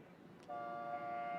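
A steady dragon boat race start horn sounds partway through, a distant tonal toot holding over faint background noise.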